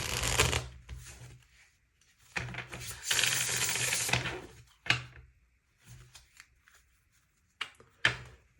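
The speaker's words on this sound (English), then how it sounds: "let's get some tarot cards for you guys. I'm going to pull a card below each of these career and love story oracle cards." Tarot cards being shuffled and pulled from the deck, with several close, crisp riffling bursts, a long flurry in the middle, then short isolated snaps and slaps as cards are drawn.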